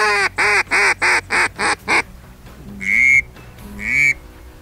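A duck call imitating a pair of ducks: seven loud, evenly spaced drake-like quacks, then two longer, higher nasal calls in answer, close and clear with no talking.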